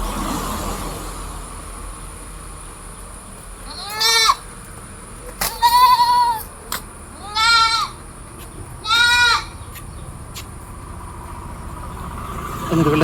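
Goat kids, two males and a brown female of a large crossbred goat, bleat loudly in four separate calls at a farm livestock sale, over steady background hum.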